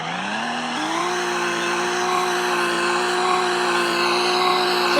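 Car engine revving with a synthesized drive sound, a smooth rising tone that steps up in pitch then holds a steady, loud whine for several seconds, alone without talk.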